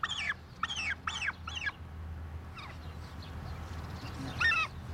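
A turkey gives a rapid burst of four loud gobbling calls, followed by fainter gobbles and one more loud call near the end, outdoors on a homestead over a low steady background rumble.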